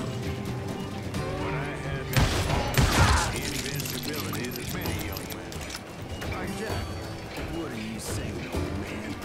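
Western-style gunfire from the video game Call of Juarez: Gunslinger crackles in a burst of rapid shots with mechanical clicks, while someone talks over the game sounds throughout.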